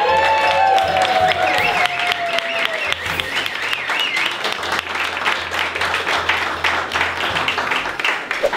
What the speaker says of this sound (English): let's give them a little clap